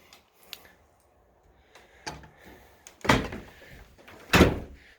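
The front door of a renovated old house, built around 1920, opens into the foyer and hallway with a few soft clicks and knocks, then two louder bumps of the door moving nearby.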